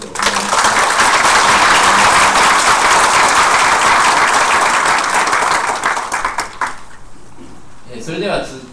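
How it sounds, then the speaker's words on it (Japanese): Big applause from an audience at a community talk event in Akitakata, a loud, dense burst of clapping lasting about seven seconds before dying away, followed by a brief voice. "大きな拍手をお願いします"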